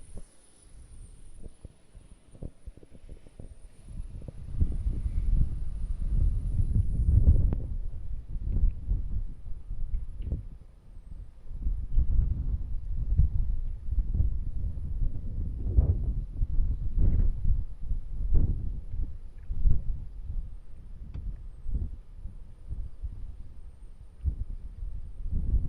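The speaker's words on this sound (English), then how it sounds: "It's actually getting quite a bit windy." Wind gusting across a microphone outdoors at a Starbase launch site, low rumbling buffets that rise and fall in uneven surges over about twenty-five seconds, with a brief lull near the middle.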